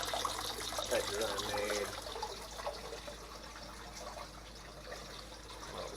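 A small waterfall in an indoor turtle pond trickles and splashes steadily at moderate level, with a person talking briefly over it near the start.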